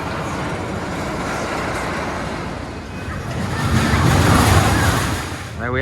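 The Big One roller coaster train at Blackpool Pleasure Beach thunders along its track in a loud, continuous rush of rumbling wheels and wind roar, swelling in intensity toward the end of the ride.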